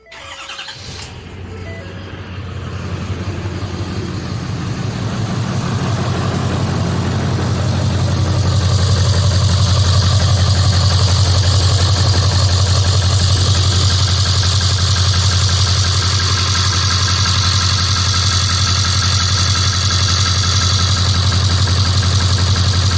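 A 2011 Ford Powerstroke 6.7 diesel truck engine cranks and starts, then settles into a loud, steady diesel idle with a constant low rumble and a hissing whine, close and uninterrupted.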